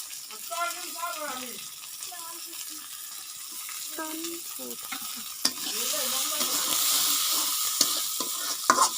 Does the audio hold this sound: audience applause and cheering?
no